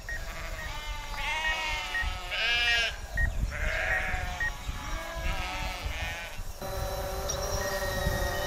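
A herd of sheep is driven into a pen, with many overlapping bleats rising and falling, some near and loud, others farther off, over steady low background rumble.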